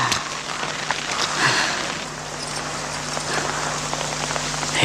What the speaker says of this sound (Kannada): ಈ ಮಳೆಗಾಳಿಗೆ ಏನು ಕೇಳಿಸಲ್ಲ ರೀ